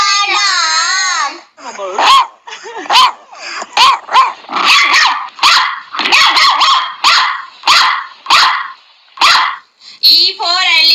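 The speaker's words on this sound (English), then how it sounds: "D for dog." A dog barks repeatedly in short, sharp bursts with brief pauses, close and loud, with a growly edge and a higher whine at the start and end.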